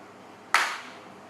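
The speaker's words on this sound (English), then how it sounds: "Every time I clap my hands, I'm going to write down the first thought that comes to mind." A single sharp hand clap rings out loud and close in a seminar room in Phuket, Thailand, with a short echoing tail fading into quiet room tone.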